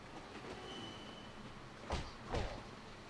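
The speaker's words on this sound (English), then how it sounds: "This is a massive freaking train." A massive train rolls through a video game's final battle, a continuous rumbling roar with two louder metallic clanks near the end, no talk.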